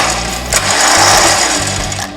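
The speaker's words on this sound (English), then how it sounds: "so you'll tighten the winch up." A Rough Country heavy-duty winch with a multi-function cleat winds in, its motor whirring steadily with a low, stepped mechanical churn over a brief stretch, loud and close with no talking.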